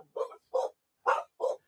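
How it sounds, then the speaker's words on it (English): A dog barks four times in quick succession, short sharp woofs spaced evenly about half a second apart, close and moderately loud with silence between them. "Oh, that was a bark."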